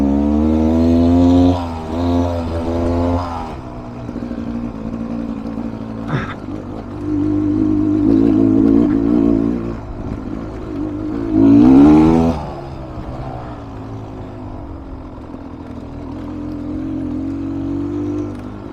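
A 2019 Beta Xtrainer motorcycle engine revs on a test ride, rising and falling in several loud pulls, with a sharp blip mid-way and a strong surge near the end, steady engine drone between.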